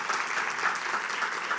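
Audience applause at a tech conference talk, a dense, steady patter of many hands clapping together for over a second, with no voices on top.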